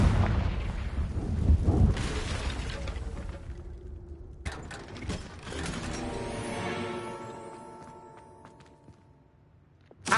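A Confringo spell blast goes off in Hogwarts Legacy, a loud booming explosion that rumbles, then a second burst with a ringing magical shimmer that fades out slowly.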